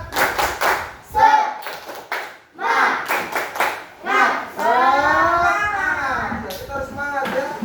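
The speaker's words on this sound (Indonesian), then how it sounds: "Ayo kita tepuk dulu supaya lebih semangat lagi. Tepuk semangat." Classroom students perform a rhythmic clapping cheer, with bursts of patterned hand claps mixed with children's voices chanting and shouting along, loud and close throughout.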